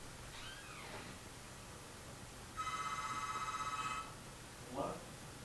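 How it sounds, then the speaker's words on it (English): A telephone rings once in a short, bright electronic trill lasting over a second, heard faintly over low background hum in a room where Super Mario Galaxy is being played, with a cat-like cry before and after. "And then the telephone's ringing."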